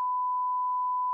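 A steady single-pitched censor beep holds at constant loudness for just over a second, clean and alone with no other sound.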